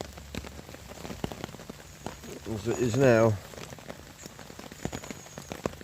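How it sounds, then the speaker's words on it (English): Rain patters steadily on a woodland camp shelter in a dense crackling texture, close around the listener, while someone speaks briefly over it. "It's raining hard out there"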